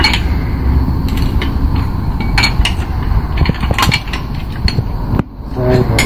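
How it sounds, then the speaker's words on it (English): Poles of a compact EPE Zulu Deluxe folding camping chair are released and pulled together by their elastic, giving repeated close clicks, rattles and metallic clacks over steady background noise. "So just release the poles. Nice and simple with the elastic."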